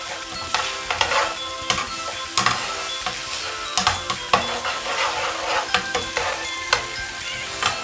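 Chicken for burgers fries in a hot pan while a spatula stirs it, giving a constant sizzle broken by regular scraping clacks and taps every half second or so, close and fairly loud.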